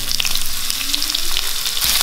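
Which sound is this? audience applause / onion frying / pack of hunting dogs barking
onion frying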